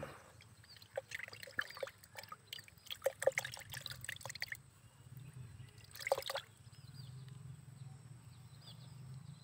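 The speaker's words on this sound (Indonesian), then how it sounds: "Kita sekarang mulai menuang ya." Liquid pesticide and MKP fertilizer poured into a sprayer tank outdoors, faint trickling and splashing in short bursts with pauses, over low background hum and occasional birdsong.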